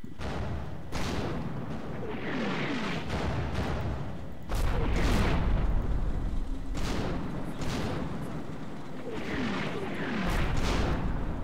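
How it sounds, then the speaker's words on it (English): Pistol shots in a wargame video game: several sharp, loud cracks spaced seconds apart over a steady rumbling background. "Oh, he's shooting a pistol."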